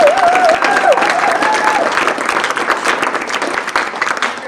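Applause and cheering from a graduation audience honoring a class of 2022 of athlete leaders, dense and sustained throughout, with a brief whistle-like tone rising over the crowd early on.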